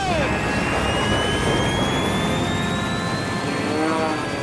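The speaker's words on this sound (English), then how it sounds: "Gentlemen, start your engine!" Formula One class race airplane engines start and run at an air racing championship, a loud sustained roaring drone with rising whine tones throughout.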